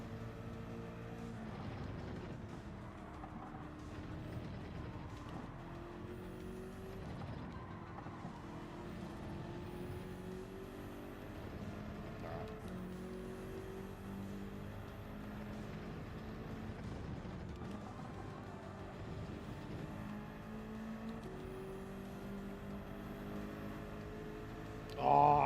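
A race car engine in the Gran Turismo video game drones steadily and quietly, with a high whistle that rises and then drops again about every six seconds.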